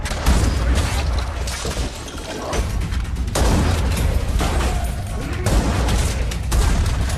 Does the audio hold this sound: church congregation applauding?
no